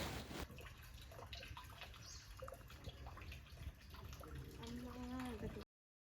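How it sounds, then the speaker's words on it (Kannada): Water flowing in the stone tank of a temple stepwell at a mutt in Chikkamagaluru, a soft continuous trickle and gurgle heard at a distance in a quiet setting, with a faint whistling tone near the end. "ನಿಶಬ್ದವಾದ ಪರಿಸರದ ಮಧ್ಯ ನೀರು ಹರಿತಾ ಇರೋ ಶಬ್ದ ಕೇಳಿಸ್ಕೊಳ್ಳೋದೇ ಒಂದು ರೀತಿ ಚಂದ"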